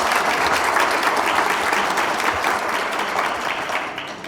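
An audience at a quality and innovation expert panel claps loudly for the panel leader, a sustained, even burst of applause that holds steady and then begins to taper near the end.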